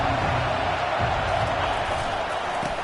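A football stadium crowd roars steadily, a dense, loud wash of cheering voices with no breaks across the whole stretch.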